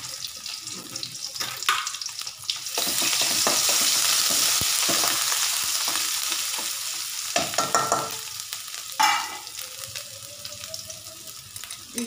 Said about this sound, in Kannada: ಒಂದೇ ಒಂದು ಮೆಣಸಿನಕಾಯಿ ಹಾಕ್ತಾ ಇದ್ದೀನಿ.